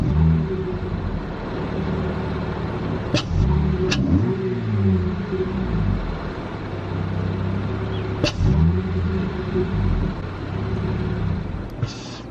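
A car engine with a freshly cleaned air intake idles steadily, then revs in short throttle blips at several points, each a quick rising vroom that settles back to idle, close and clear with no talk.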